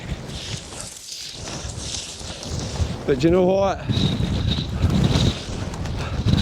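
Strong wind buffets the microphone throughout on the hill Beinn a'Chrulaiste in Scotland, a steady low roar with gusts, while a person speaks briefly partway through.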